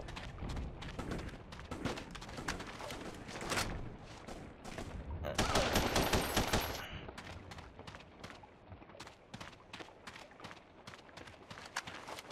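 Rapid bursts of gunfire from The Punisher on PS2 crackle in dense, repeated volleys, swelling into a heavier sustained burst midway before thinning back to scattered, fairly quiet shots.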